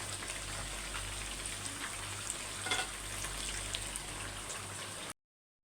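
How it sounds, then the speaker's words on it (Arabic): Potatoes frying in hot oil give a steady, close crackling sizzle with small popping spatters throughout, then the sound cuts off abruptly to silence near the end. "هحمر البطاطس"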